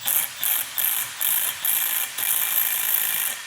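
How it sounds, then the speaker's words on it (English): A 3-jaw puller being cranked to pull the pulley off a power steering pump from a 1968 Camaro RS/SS gives close, steady ratcheting clicks in bursts of about half a second, with short pauses between them. "We're gonna use a 3-jaw puller to get this pulley off."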